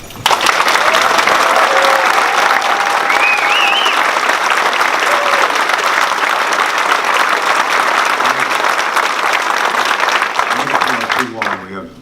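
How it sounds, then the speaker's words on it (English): A debate audience applauds the county candidates as they are introduced, a loud, sustained wash of clapping that holds for about eleven seconds before breaking off abruptly. Bits of tone and murmuring show faintly beneath it. "Let me introduce the teams, and you can applaud"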